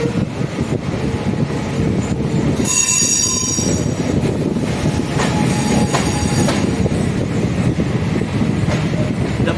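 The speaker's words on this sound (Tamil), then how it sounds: "வேளச்சேரியிலேருந்து பீச் வருகின்ற பறக்கும் ரயில்." An elevated MRTS suburban train from Velachery rolls into a Chennai station, loud and close, with rumbling wheels and a sharp metallic squeal of brakes partway through.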